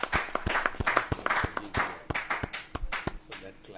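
Scattered hand claps from a lecture audience at the India International Centre, a sparse, uneven patter of individual sharp claps at moderate volume with no steady roar.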